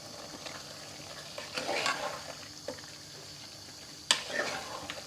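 A potato and carrot curry with chopped coriander is stirred in a pot, giving a low background sizzle with scattered clinks and sharp scraping knocks from the spoon, one louder near the end.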